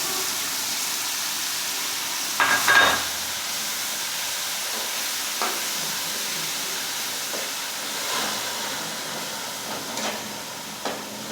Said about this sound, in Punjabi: ਲਸਣ ਆਪਣਾ ਭੁੱਜ ਗਿਆ ਤੇ ਹੁਣ ਆਪਾਂ ਪਾ ਪਿਆਜ਼